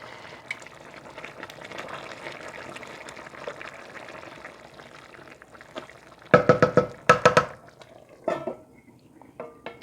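Homemade Hamburger Helper pasta simmers in a pot with soft, low bubbling, then a cluster of loud metallic clinks and scrapes as a utensil hits the pot, followed by a few quieter knocks.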